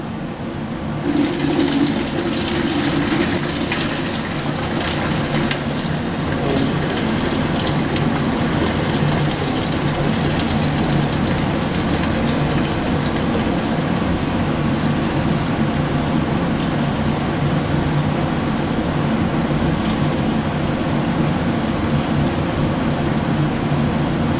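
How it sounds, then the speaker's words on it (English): Chicken soup pours from a pot through a strainer into a pitcher in a sink, a steady splashing rush of liquid that runs continuously for over twenty seconds at close range. "I'll just take this pot, strain off the best I can."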